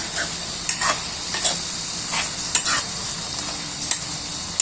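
A spoon stirs tomatoes through a sizzling dry fish and cucumber curry in a pan. Steady frying hiss runs underneath, with repeated scraping strokes at an uneven rhythm and no talking.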